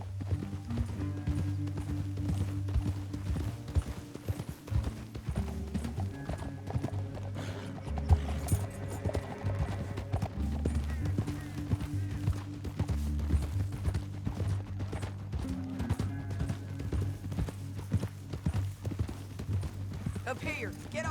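Horse hooves gallop in a continuous clip-clop rhythm beneath a low, droning background, in the video game Red Dead Redemption 2.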